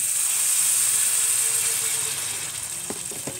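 Water poured steadily into a hot cooking pot of squash and string beans with salt, giving a continuous hissing rush that eases slightly toward the end, with a few sharp clinks near the close.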